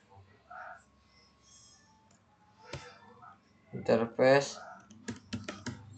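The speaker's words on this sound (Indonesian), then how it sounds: "Lalu kita di sini ketik interface" Computer keyboard typing during network setup, first sparse and then a quick cluster of clicks near the end, close and moderately loud, with someone speaking over part of it.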